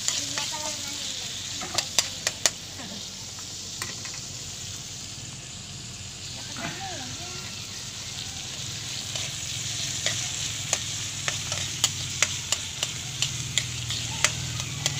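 Tomatoes being sautéed and stirred in a pan, with a continuous sizzle broken by sharp scraping clicks of the utensil that come in small clusters, close up and with no talk.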